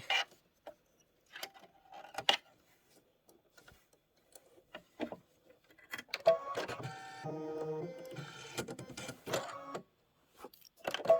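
An embroidery machine stitches the lower windowsill detail of a blue house design, running in short bursts of rapid mechanical clatter separated by pauses, then a longer steady stitching run, close and fairly quiet.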